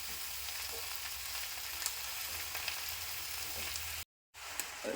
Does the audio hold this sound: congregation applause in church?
no